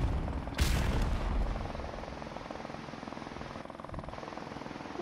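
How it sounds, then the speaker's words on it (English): Helicopter rotor chop in Call of Duty Modern Warfare Remastered multiplayer, a steady low thumping drone beneath a burst of gunfire near the start, holding at moderate loudness throughout. "Helicopter."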